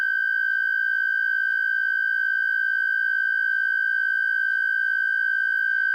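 A steady pure sine tone from a phone signal generator app holds constant and loud for the whole stretch, with faint periodic clicks underneath.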